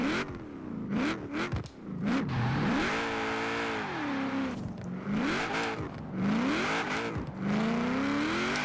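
A 1000-horsepower HVS GTSR drift build in Forza Horizon 4 revs hard and continuously, engine pitch climbing and falling in repeated sweeps with brief dips between pulls, loud and close with no talking.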